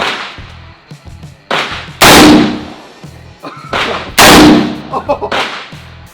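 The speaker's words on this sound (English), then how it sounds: "He's got his brand new AR-15 223 round. Light it up" An AR-15 rifle firing .223 rounds outdoors at a shooting range: two loud, sharp gunshots about two seconds apart, each with a ringing decay, over faint background noise.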